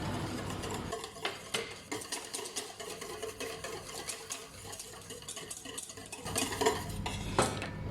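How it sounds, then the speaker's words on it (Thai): A utensil scrapes and clinks around a bowl while dry ingredients for a keto coffee cake are stirred together, irregular close taps and scrapes that quicken toward the end, with no voices. "เสร็จแล้วก็ใส่ของแห้งค่ะ คนผสมเข้ากันก่อนนะคะ"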